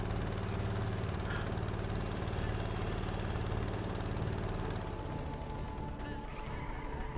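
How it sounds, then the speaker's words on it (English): Loud truck engine in the game Stormworks, a dense low rumble running steadily and close, easing off slightly near the end, with faint voices beneath. "It's not that easy with a loud engine in your truck."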